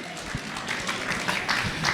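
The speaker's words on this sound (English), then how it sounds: "round of applause to everybody" An audience at a keynote event applauds, with scattered claps and crowd noise that carry on briefly while voices mix in.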